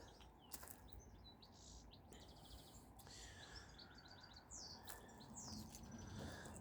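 Birds chirp and trill outdoors on a spring day, faint and scattered over a dense, hissy background of wind and ambient noise, with no talking.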